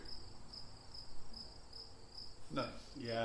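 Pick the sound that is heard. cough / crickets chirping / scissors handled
crickets chirping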